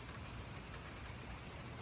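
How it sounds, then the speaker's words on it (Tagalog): Heavy morning rain falls as a dense, steady broadband hiss, faint and continuous, with no voices. "Ang lakas ng ulan."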